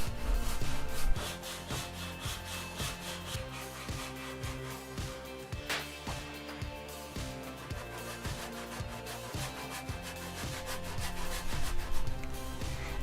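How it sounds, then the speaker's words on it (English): Dense hickory wood is hand-sawn and chiseled, giving a steady rhythm of close, rasping saw strokes repeated evenly throughout, with no speech. "So that left lots of chiseling and carving and sawing, because I had to be careful so I wouldn't split the wood"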